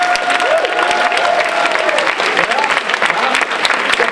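An audience applauds the finalists at the 2013 Imagine Cup French final ceremony, with dense, steady clapping filling the hall for about four seconds and a voice or tone faintly running underneath.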